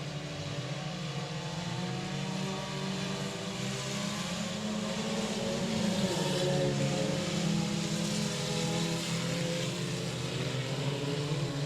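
Four-cylinder stock cars race side by side on a Texarkana speedway, a steady drone of engines holding constant and moderately loud throughout with no voices.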